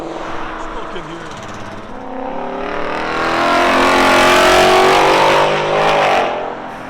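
A 2024 Ford Mustang GT with a 5.0L V8, Corsa Double Helix exhaust and muffler delete revs and pulls away, its deep exhaust note swelling loud mid-clip and then easing, with people talking over it.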